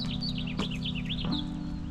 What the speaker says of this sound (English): Some of those birds, man. Crazy.